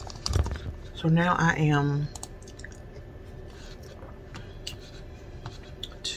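Someone munching a crunchy sweet and salty snack mix, soft chewing crunches close to the mic after a short spoken phrase, with light clicking in the background.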